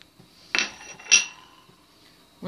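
Spoon clinking against a bowl while stirring yogurt with spices, two or three distinct sharp metallic taps spaced apart, close and clear with quiet between them.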